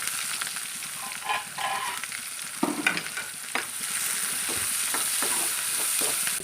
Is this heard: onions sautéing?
yes